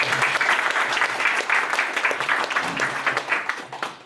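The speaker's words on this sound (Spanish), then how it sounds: "Démonos nosotros un aplauso también." A seated audience at a speech applauds itself, a full, sustained burst of many hands clapping at close range that holds steady and begins to fade at the very end.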